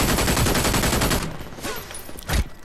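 Rapid automatic gunfire in the first-person shooter Brink, a loud dense burst for over a second, then scattered echoing shots and a final crack, with no talking.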